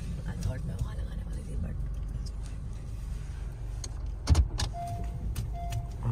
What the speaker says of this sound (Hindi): हमारे न्यू ड्राइवर साहब गाड़ी चला रहे हैं।